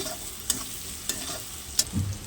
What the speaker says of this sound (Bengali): এবার মশলাটা আমি ভালো করে ভেজে নিচ্ছি